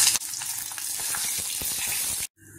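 Dried red chillies and onions frying in hot oil, a loud dense crackling sizzle that runs steadily for a couple of seconds before cutting off abruptly.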